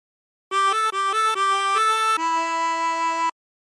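A 16-hole tremolo harmonica plays a short phrase of a song, several quick wavering notes stepping up and down, then a long sustained final note, solo and close.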